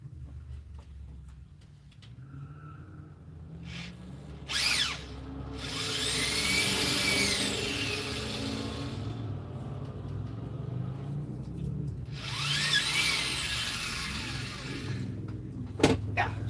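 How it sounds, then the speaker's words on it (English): A power drill whines in two long sustained runs as it enlarges holes, with the speed rising and falling, over a low rumble and a few clunks. It is close and fairly loud. "Stand on one end, drill it out."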